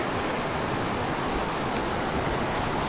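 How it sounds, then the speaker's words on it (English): Rapids of the Big Hole River rushing past a campsite, a dense, steady roar of flowing water filling the scene, close and constant with no voices. "I love hearing the sound of the river."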